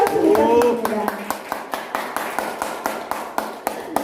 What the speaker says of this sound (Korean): 우리 정현복 교수님께 다시 한번 감사의 큰 박수 부탁드립니다.